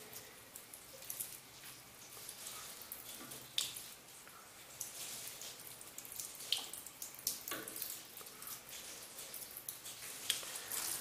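Water splashes and trickles over HTC Desire EYE and Sony Xperia Z2 phones, a faint, continuous patter of drips and splashes with no talking.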